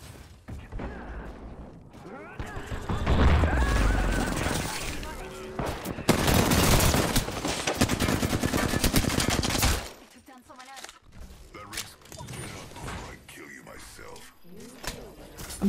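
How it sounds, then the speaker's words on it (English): Automatic gunfire and weapon mechanisms in the battle royale video game Apex Legends come in dense, loud bursts, then in sparser shots and clatter, with game sound underneath. "I am taking fire, friends."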